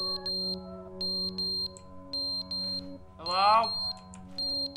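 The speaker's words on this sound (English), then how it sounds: "Smoke alarm." Repeated electronic smoke alarm beeping in The Stanley Parable Ultra Deluxe, short high chirps in a steady pattern over a droning background, with a voice calling out briefly in the middle.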